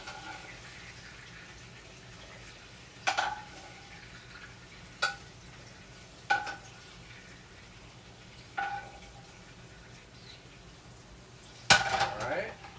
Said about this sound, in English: I'm just going to scoop it out so that we're not capturing all the grease.